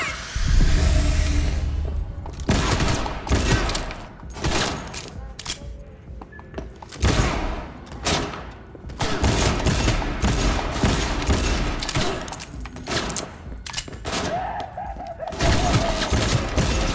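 Rapid bursts of gunfire from a firearm in the video game Cyberpunk 2077, loud and close, coming in clustered volleys with brief gaps, with a voice talking intermittently between shots.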